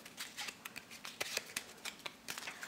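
A deck of playing cards handled in a swing cut false cut, giving a quick series of light, crisp snaps and riffling clicks, faint and close, with no talking.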